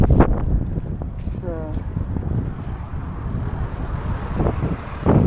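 Strong wind buffets the microphone out in the open Western Sahara desert, a steady loud roar of gusts with brief voices breaking in now and then.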